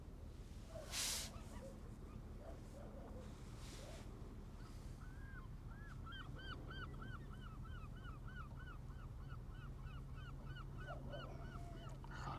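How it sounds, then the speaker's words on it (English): Gulls calling beside the Westerschelde river while ships pass, a rapid repeated run of honking calls in the middle and later part, moderately distant, over steady wind and a low engine drone. "You guys could hear all the seagulls better"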